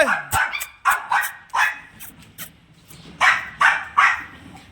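Dogs bark in short, sharp bursts, several in quick succession, close and loud with brief pauses between groups.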